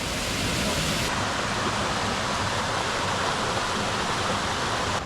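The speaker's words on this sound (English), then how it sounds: "There's cascading waterfalls as you come down to this one as well." A waterfall in the Brecon Beacons, Wales, roars steadily close by, a dense, unbroken rush of falling water with no voices over it.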